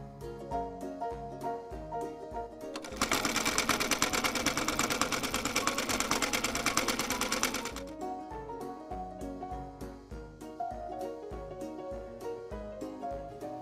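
A sewing machine stitching fabric for a turban knot headband runs in one steady, loud, rapid burst for several seconds, with lighter clicks and handling noises before and after.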